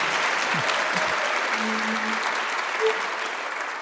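A jazz concert audience gives steady, moderately loud applause for the sound and video producer. The clapping stays even and continuous, with a few faint vocal sounds mixed in.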